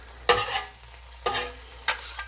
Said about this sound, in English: We'll give them a quick stir. That's what I'm doing off screen right here.